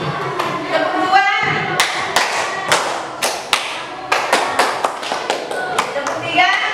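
Children in a classroom clapping game clap in quick bursts on cue, sharp clustered claps ringing out in short sets separated by brief pauses, while a teacher's voice calls between the rounds.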